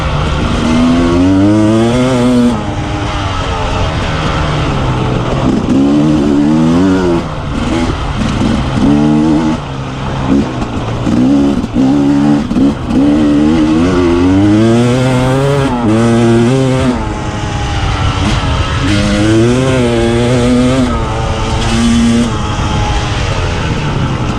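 Motorcycle engine fitted with a Stic metering block, revving up and down repeatedly in loud, continuous sweeps, close by and with no talking.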